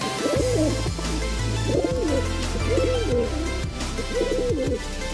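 High-flying Kabji pigeons in a loft cooing in repeated rolling phrases, several calls in a steady rhythm over a low constant hum, close and clear.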